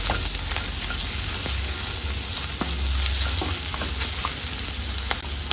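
Cumin, cloves, cinnamon, cardamom and coriander stems fry in a pan with a loud, continuous close sizzle and crackle, with occasional light stirring scrapes and no talking.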